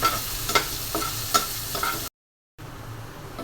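Onions frying into crispy birista hiss steadily in a pan while a spatula stirs with several rhythmic scrapes, then the sound cuts out briefly before the quieter sizzle resumes.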